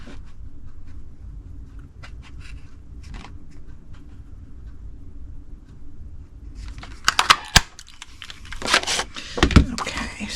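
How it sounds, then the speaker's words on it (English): A Petal Park Builder Punch cuts flowers from paper in a few sharp clacks and crunches near the end, close by, after a stretch of quiet handling noise. "now with my Petal Park Builder Punch, I'm going to cut the flowers out."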